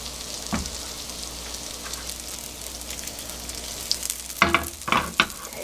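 Margarine sizzles softly as it melts in a frying pan, a low continuous hiss. Several louder scraping or clattering bursts come near the end.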